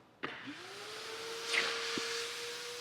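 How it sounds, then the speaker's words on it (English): A shop vac switches on with a sharp click and spins up into a steady, loud whooshing drone that holds on while inflating a unit, with no talking. "It's more efficient to use a shop vac than any other things that you have."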